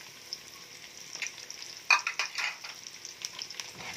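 Carrots sauté in a pan for pork pochero, a soft, steady sizzle broken by scraping stirs and a sharp clink of utensil against the pan.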